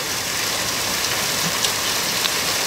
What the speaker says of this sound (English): And here's the heaviest rain.